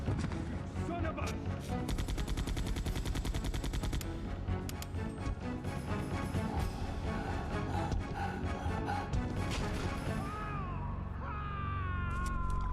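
Rapid bursts of gunfire from Resident Evil 2 (1998) crackle over a dense game soundtrack, with sustained tones and music carrying on after the shooting eases near the end.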